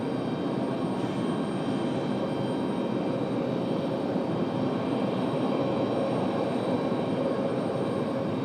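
An Aer Lingus A321XLR jet airliner arriving from Dublin at Raleigh-Durham airport gives a steady, continuous engine roar at moderate distance, holding level throughout with no voices.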